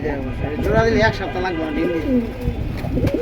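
Lal Patti military pigeons coo in soft, repeated throaty calls close by, with a voice talking over them throughout.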